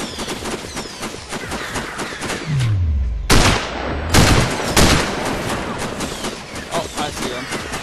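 Gunfire in the Sniper Ghost Warrior video game: dense bursts of shots crackle near and loud, with a couple of heavy booming blasts and a falling whoosh in the middle.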